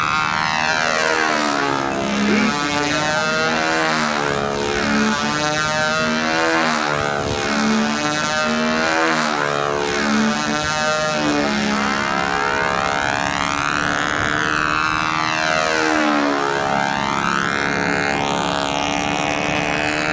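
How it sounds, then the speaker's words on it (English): A Strega ARF model airplane engine runs loud and continuous, its whining pitch rising and falling in sweeping passes as the plane flies close by. "All right, you're on a motor run now."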